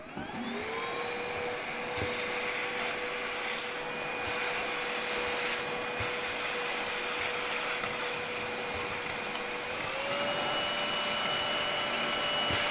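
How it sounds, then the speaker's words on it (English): A cordless handheld vacuum picks up sequin trimmings after machine embroidery, its steady motor whine running near and loud throughout with a slight pitch rise near the end. "let me grab my handheld vac here"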